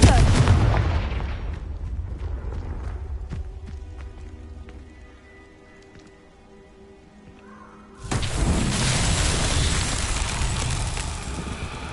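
Confringo fire-blast spell from Hogwarts Legacy, a loud booming burst that rumbles and decays into quieter crackling, then a second heavy explosive blast that roars on steadily to the end.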